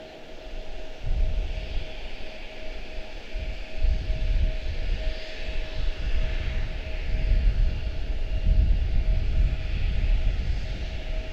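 A jet airliner departs Charlotte Douglas airport with a broad, steady engine roar and deep rumble that swells and holds without a break.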